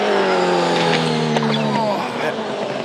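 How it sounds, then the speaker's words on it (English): A Supercars V8 race car at the Sandown 500 screams past at high speed, a loud, sustained engine whine with a slight Doppler drop and a short tire squeal, heard under excited commentary. "I've never seen a car go off the road as fast as that at that spot."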